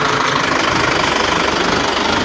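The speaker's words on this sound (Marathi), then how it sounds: "तुम्ही बघू शकता तर आपला ट्रॅक्टर" Tractor engine running, a loud, close, steady rumble with a rapid knocking pulse throughout, no voices.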